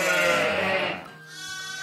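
A ewe bleats just after a difficult birth on a farm, one loud, close, wavering cry that fades and then trails into a softer, thinner call.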